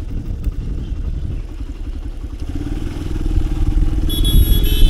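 A motorcycle engine rumbles close by on a road, its low throbbing swelling louder toward the end as it draws near, with a faint high whine appearing in the last second.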